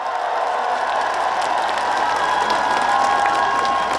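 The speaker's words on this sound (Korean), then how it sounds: "박수 한번 부탁드리겠습니다." An outdoor crowd at a trot concert during the 38th Yeoju Ceramics Festival claps and cheers loudly, with shouts and high voices mixed into the constant roar of applause.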